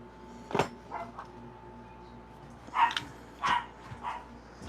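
A small dog barks at other dogs it sees on security cameras, giving several short, sharp yaps in bursts with gaps between, moderately close in a quiet room.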